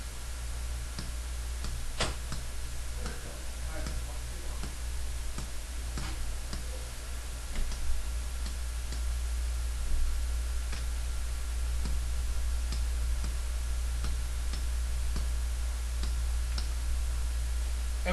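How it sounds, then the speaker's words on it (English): Fingers tap number keys on a calculator, a run of sharp, close plastic clicks at an uneven pace, some in quick bursts, over a low steady hum. "So we go to our calculator"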